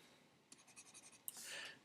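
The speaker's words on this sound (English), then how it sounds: "let's erase that real quick" Writing on a board is erased with a short burst of quick rubbing strokes, close and quiet, ending in a brief louder swipe.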